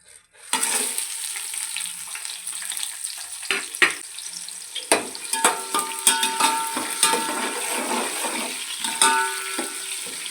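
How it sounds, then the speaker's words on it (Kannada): Onions and tempering spices drop into hot oil for a mutton pulao, bursting into a steady, loud sizzle with crackles and occasional sharp pops and utensil taps throughout. "ಎಣ್ಣೆ ಕಾದಿದೆ ಒಗ್ಗರಣೆಗೆ ರೆಡಿ ಮಾಡ್ಕೊಂಡಿರೋದನ್ನೆಲ್ಲ ಇವಾಗ ಸೇರಿಸ್ತಾ ಇದ್ದೀನಿ"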